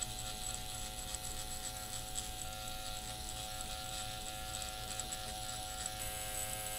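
An electric microneedling pen runs on facial skin as a steady, even buzzing hum that stays at the same level throughout, with no talking.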